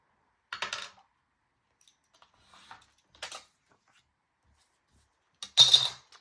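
Paper being cut with scissors for a junk journal: a few short crisp snips spaced across a quiet room, the last one louder and closer, with no talking.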